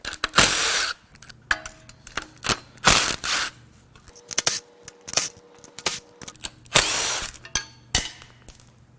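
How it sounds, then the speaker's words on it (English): A hand ratchet works spark plugs out of a Ford 302 small-block V8 from a Mustang 5.0, giving bursts of rapid clicking with pauses and small metallic taps between strokes, close and clear. "we're going to start pulling the plugs and see what they look like"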